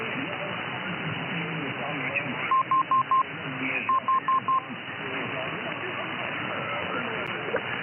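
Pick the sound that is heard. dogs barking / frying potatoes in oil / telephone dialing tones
telephone dialing tones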